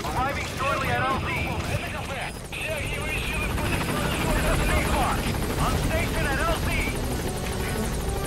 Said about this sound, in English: We'll just have to do it by chopper.